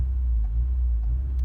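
A Honda S2000 sports car driving on the road, heard as a steady, close, low engine and road rumble with no other distinct sounds.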